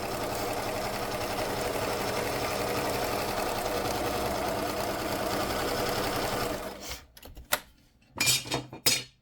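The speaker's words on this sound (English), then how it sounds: "So I'm just going to sew along here and sew the lace to the fabric." A sewing machine stitches lace onto fabric with a running stitch, a steady close mechanical hum for about six and a half seconds before stopping, followed by a few scattered handling clicks and rustles.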